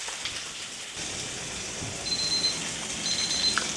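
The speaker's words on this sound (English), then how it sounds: "That's our timer telling us it's time to turn this over." A kitchen timer beeps in two short high bursts over the steady hiss of meat searing on medium heat in a 10-inch pan.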